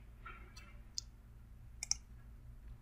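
Mouse clicks while loading a program to a Siemens S7-1200 PLC: a few sharp, faint clicks, one single and then a quick pair, close by over a low steady hum.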